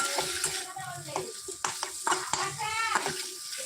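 Chhana (cottage cheese) is stirred in a frying pan with a soft sizzle, a spoon scraping and clinking against the pan in quick strokes, with speech over the cooking.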